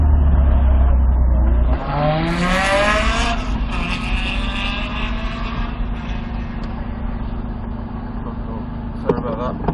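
A Toyota Supra's engine revs and pulls away loudly at first, then fades into a steady hum as the car drives, with voices talking over it.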